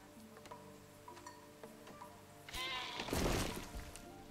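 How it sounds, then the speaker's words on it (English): A sheep bleats loudly for about a second in the video game Dawn of Man, amid quiet clicking and ticking game sounds, with fainter ambient tones underneath. "Oh, I just heard him kill a sheep."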